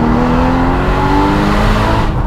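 A Porsche Boxster Spyder engine roars loudly and steadily, its pitch climbing gradually as it revs past 6,000 rpm, with no voices.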